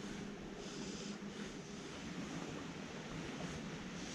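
Steady wind blowing across the open bank of the River Yeo near Codshead Bridge, a continuous broadband rush that holds level throughout with no voices.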